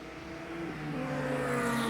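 A long line of race cars in an endurance Grand Prix passes on the track, engine drones rising steadily and building in loudness as the pack approaches.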